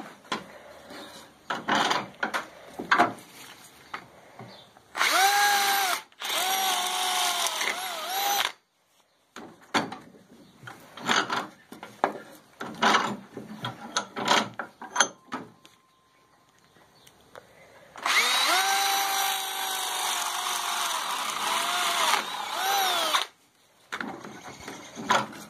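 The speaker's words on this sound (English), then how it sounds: "drill till I fall into that open hole in the middle" A power drill bores into scrap wood at roughly a 45-degree angle while a bee trap is built, running in repeated close bursts with a whine that rises and falls in pitch, separated by short quiet pauses.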